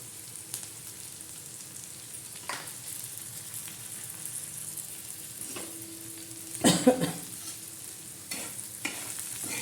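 Egg chutney frying in a pan, with a steady crackling sizzle throughout and intermittent stirring scrapes, one louder clattering burst midway, all close and moderately loud with no talk.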